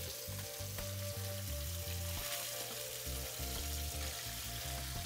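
Redfish (red drum) throat frying in a pan gives a steady, close hissing sizzle that runs unbroken throughout, with music playing underneath.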